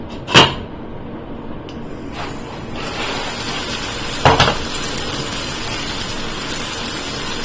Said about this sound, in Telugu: మూత పెడతాము